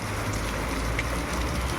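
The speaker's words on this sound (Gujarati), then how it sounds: "હજી વરસાદ કન્ટિન્યુ ચાલુ જ છે આપણે અહીંયા" Continuous steady rain hiss with a low rumble underneath, even and unbroken; no voices.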